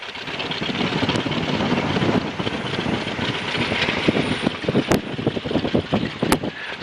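A Tiger Moth biplane in flight gives a steady engine and propeller drone mixed with rushing wind, close and fairly loud, with a few sharp clicks late on and no speech.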